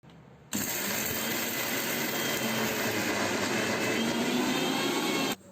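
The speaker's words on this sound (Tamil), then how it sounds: "நம்ம ஆற வச்ச மசாலாவை மிக்ஸி ஜாரில் போட்டு மையாக அரைச்சிடலாம்" A mixer grinder grinding cooled masala paste starts abruptly and roars at full loud, steady whir for about five seconds, then cuts off sharply.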